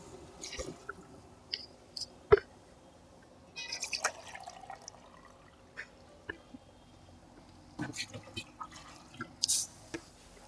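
Water is poured from a small vessel onto rice for biryani in a home kitchen, heard as scattered splashes and drips in short bursts against a quiet background.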